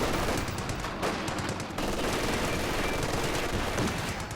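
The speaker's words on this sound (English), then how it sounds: "Machine gun squad." Machine gun squad firing in the video game Company of Heroes 2, dense continuous automatic gunfire bursts layered with battle noise, loud and sustained throughout.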